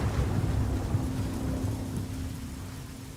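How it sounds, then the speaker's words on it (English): Rainfall in the video game Days Gone Remastered, a constant, soft hiss of rain with a low steady hum beneath it, fairly quiet and even throughout, no speech. "But yeah, the rain is really distracting for some reason."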